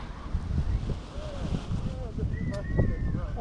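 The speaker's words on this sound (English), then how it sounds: "It's this moment, it's a little bit good wind, so it pulls you a little bit back." Steady wind rushes and buffets the microphone at a hilltop paragliding launch, with a faint whistling tone near the end and people talking over it.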